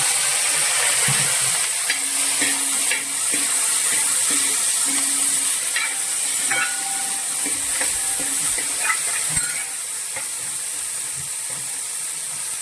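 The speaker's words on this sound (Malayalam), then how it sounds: "നമുക്കിതിലേക്ക് പച്ചമുളകും ഉള്ളിയും കൂടി ഇട്ട് കൊടുക്കാം." Green chillies and onion sizzling in hot oil in a pan of Kerala-style beef fry masala, a steady close frying hiss with occasional stirring scrapes and clicks, no talking.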